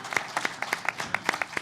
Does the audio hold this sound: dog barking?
no